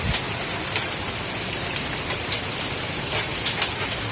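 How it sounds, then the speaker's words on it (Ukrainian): Hail mixed with rain drums steadily on a roof during a July storm, a dense continuous patter broken by brighter individual impacts scattered throughout. "Зараз град."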